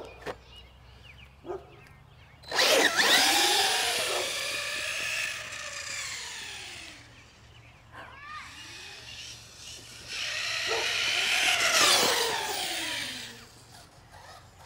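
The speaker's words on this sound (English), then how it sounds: "those tires sing on the concrete" A radio-controlled car running on a 6S LiPo battery drives over concrete and cement, its motor and tires giving a rising and falling whine that swells loud as it passes close and then fades, in two bursts.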